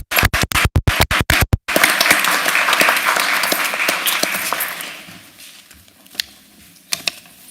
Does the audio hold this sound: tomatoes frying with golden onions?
no